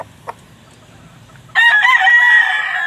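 After a quiet moment, a fighting rooster crows loudly and close by, one long drawn-out call.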